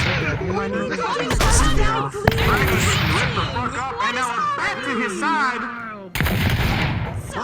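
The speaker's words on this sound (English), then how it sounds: "Multiple guns going off." Several gunshots crack in quick succession during a Western-style duel in a video game roleplay, loud bursts mixed with overlapping voices and chatter, with a sharp burst near the start and another louder volley at the end.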